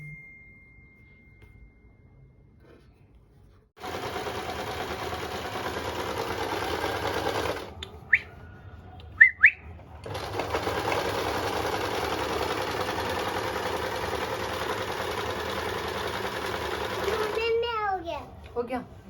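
A sewing machine runs in two long, steady bursts while stitching a fall onto a saree, with a short pause of handling between them and a voice briefly at the end.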